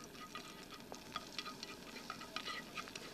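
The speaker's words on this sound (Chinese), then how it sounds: "就把这个香菇下锅" Shiitake mushrooms are added to a pan of oil with golden, crisp-fried shallots, giving a faint, soft sizzle with light crackles and stirring clicks throughout.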